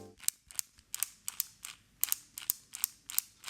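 Rapid plastic clicks and clacks repeat in an uneven rhythm as a Qiyi magnetic puzzle cube with loose magnets is turned, with a loose, rattly snap on each twist.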